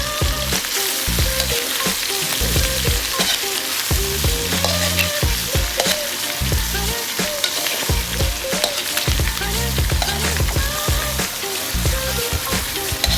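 Pork sautés with garlic and onions in a hot pan, a loud, close, continuous sizzle with the steady crackle of frying and intermittent stirring scrapes, with no voices.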